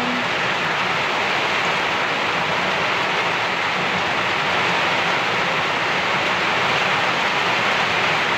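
Heavy rain on a rainy afternoon, a dense, constant roaring hiss at steady loudness throughout, with no voices or breaks.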